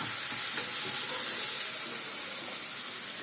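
Onions fry in a pan for a feast-style cauliflower potato curry, giving a steady bright sizzle and hiss that stays even and close throughout, with no talking.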